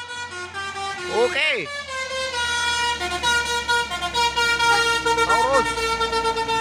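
Bus telolet horns play bright melodic tooting tunes as buses pass on a busy road at Bukit Kodok hill, Indonesia, loud over steady engine rumble and traffic, with a voice speaking briefly.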